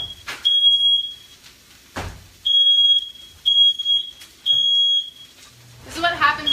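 A home smoke detector going off while eggs are being cooked for breakfast, giving a series of loud piercing beeps with short gaps, interrupted by thumps and kitchen clatter.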